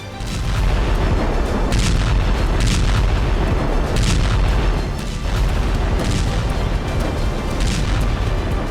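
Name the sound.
explosion in war footage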